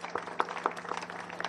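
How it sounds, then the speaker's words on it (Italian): Indoor audience applause at a book presentation, a soft, brief patter of clapping hands, fairly distant and steady throughout. "intanto lo salutiamo con un applauso"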